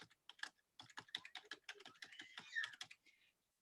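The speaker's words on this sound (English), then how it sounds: "Sorry, my typing." Quiet, close typing on a computer keyboard: a steady run of quick key clicks with brief pauses, heard alone.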